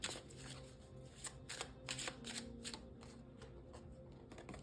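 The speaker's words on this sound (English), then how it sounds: "I did shuffle." Tarot cards are shuffled repeatedly at close range, a series of quick riffling bursts in an uneven rhythm, fairly quiet with no talking.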